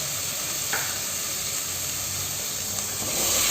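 Tomatoes sautéing in oil with onion and ginger-garlic paste for a chicken gravy, a steady close sizzle with faint stirring scrapes throughout.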